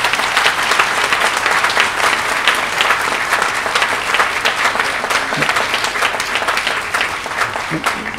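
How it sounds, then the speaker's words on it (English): An audience claps at a hospital groundbreaking ceremony. The applause is dense and even, and stays steady and fairly loud throughout. "Could you give the champions some applause here?"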